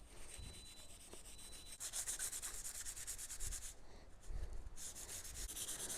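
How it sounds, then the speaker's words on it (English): A painted Ford F-150 grille emblem being hand-sanded, heard as a faint, close scratchy rubbing in rapid back-and-forth strokes, with a few short pauses between passes. "This will be the final sanding here."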